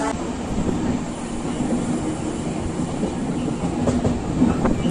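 A train rumbles steadily along the rails near Laksar Junction, India, with a continuous low roar and faint rhythmic clatter, close and fairly loud throughout.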